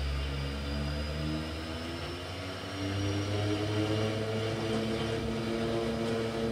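Twin Otter turboprop engines drone loud and steady during a maximum-performance takeoff, a continuous close engine roar that rises slightly in pitch as power builds.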